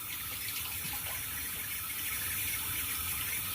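Hot water runs from a tap in a steady, close hiss and splash, unbroken throughout, with no voices.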